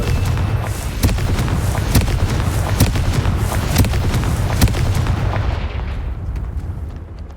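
Confringo blasting spells exploding in Hogwarts Legacy, a dense barrage of booming impacts and sharp cracks in quick irregular succession over a rumbling backdrop, loud and close, fading at the end.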